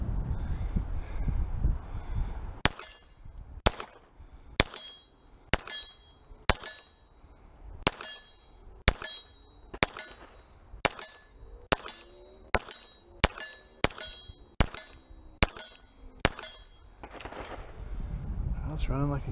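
A Cajun Gun Works CZ P-01 pistol fires at an outdoor range: about fourteen sharp, loud shots in a steady, evenly spaced string, each cracking out and ringing briefly before the next.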